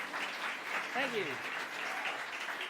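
An audience claps steadily after a bluegrass band's song at Petone, a warm even wash of applause with a brief voice rising in the middle.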